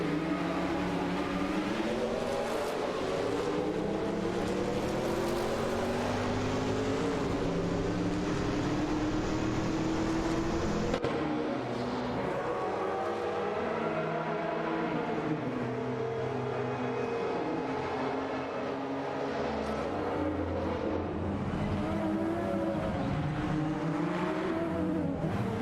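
Racing game cars, a Porsche 962C short tail and a Chevrolet Intrepid RM1, drone continuously with high engine whine, revs rising and shifting through gears, loud and close throughout without any voices.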